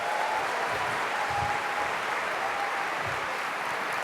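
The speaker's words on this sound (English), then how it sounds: "Let's bring it in with a bit of an applause." A convocation audience applauds CPABC CFE passers as their presentation begins, a steady, even wash of clapping that sounds somewhat distant and diffuse, with a faint low hum underneath.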